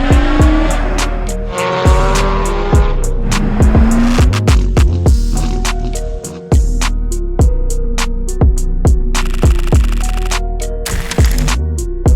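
A Toyota JZX100 Chaser revs hard with sharp, repeated throttle blips and shifting engine pitch, its tires squealing in long howls as it slides, loud and close with brief bangs between bursts.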